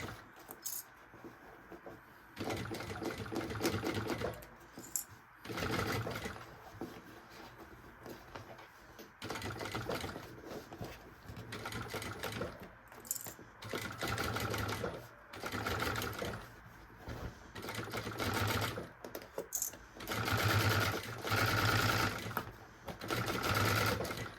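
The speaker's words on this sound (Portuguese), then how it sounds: "Se você tiver uma máquina reta industrial, recomendo usar ou o pé de zíper para fechar" An industrial straight-stitch sewing machine stitches a maternity bag in repeated bursts of rapid mechanical whirring and needle chatter, several seconds each, broken by brief pauses, with no talking over it.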